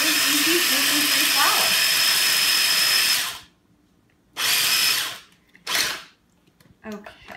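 Oats are ground into gluten-free flour in a machine, a loud high-pitched whir running for about three seconds and then two shorter pulses, with a voice speaking briefly over the first run.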